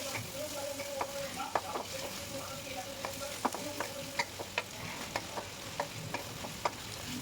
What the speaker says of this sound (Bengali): আবার একটু ভালো করে চিকেন সমেত এগুলোকে নেড়ে নেব।